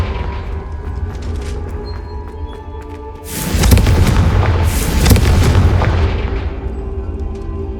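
Confringo blasts fire in a Hogwarts Legacy fight against an ancient titan boss: a loud booming burst of explosions that rolls on with crackling, layered detonations before tapering off.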